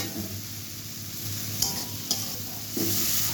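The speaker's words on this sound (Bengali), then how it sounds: "এবার চিংড়ি মাছ দিয়ে দিয়েছি। এবার তার মধ্যে একটু পেঁয়াজ কুচি দিয়ে দেবো। এগুলো ভালো করে কষাবো।" Prawns, chopped onion and taro sizzle and hiss in hot oil in a pan while being stirred, a steady close fry with a few louder scraping stirs and a surge of sizzle near the end.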